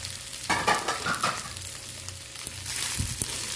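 Ground pork and parboiled long beans stir-fry in a pan, a close sizzling hiss with clattering spatula scrapes and knocks throughout, and no voices.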